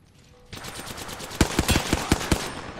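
Video game gunfire breaks out in a quick string of loud, close shots, about half a dozen sharp bursts in rapid, uneven rhythm after a short quiet start.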